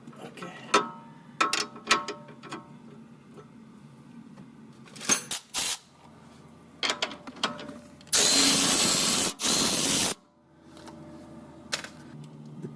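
Loosening the strut pinch bolt on an MK7 Golf R with DCC: scattered metallic clicks and taps, then two sustained bursts of a power tool whirring loudly up close, followed by a few more light tool clinks.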